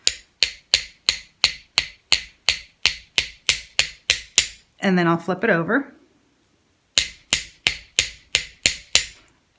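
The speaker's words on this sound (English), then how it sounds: "I'll just give it a little bit more of a hammering on this part." Small hammer strikes on a handmade metal ear wire for a jewellery piece, a steady run of sharp, close taps that pauses while a voice speaks briefly, then resumes in the same even rhythm.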